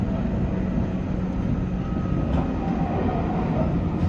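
Scenic train pulling out of Aomori Station in Japan, heard from inside the carriage as a steady, close low rumble of wheels and running gear, continuous and even throughout.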